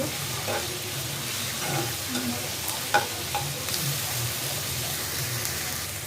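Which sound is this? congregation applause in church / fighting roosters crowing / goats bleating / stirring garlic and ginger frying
stirring garlic and ginger frying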